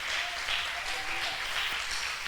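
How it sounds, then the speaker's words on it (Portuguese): Congregation applauding in a church service, a steady wash of clapping that holds evenly for a couple of seconds, with faint voices mixed in underneath. "Vamos aplaudir o nome do Senhor"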